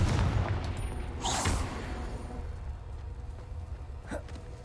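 Confringo blasting spell in the Hogwarts Legacy video game, booming explosive bursts amid a dense rumbling fight mix, with a sharp crack early and a fainter blast near the end.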